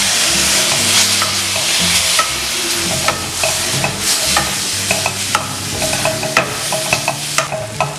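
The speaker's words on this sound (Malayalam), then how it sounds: "ഇതിലേക്ക് കുറച്ച് ചിക്കൻ്റെ സ്റ്റോക്ക് ആഡ് ചെയ്ത് കൊടുക്കാം" Chicken stock hits a hot frying pan and is stirred in, a loud close sizzle under repeated scraping and clanking of a spatula against the pan in an uneven rhythm, no voices.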